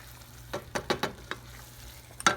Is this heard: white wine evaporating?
yes